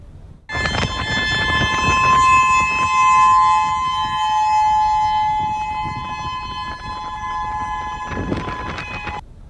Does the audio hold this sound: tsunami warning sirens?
yes